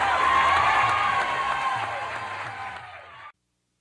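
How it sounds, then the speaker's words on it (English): A studio audience at a televised comedy show claps and cheers after a comedy act, loud and sustained at first, then gradually thinning before cutting off abruptly. "how about a nice round of applause?"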